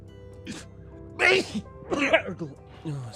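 A person sneezes sharply twice, close and loud, with talking mixed in around the bursts.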